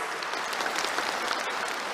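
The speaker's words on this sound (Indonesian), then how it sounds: "Lah ya, buat tepuk tangan yang keras." A crowd at a PDI Perjuangan 50th anniversary party rally breaks into a brief, dense burst of loud, sustained clapping that fills the hall.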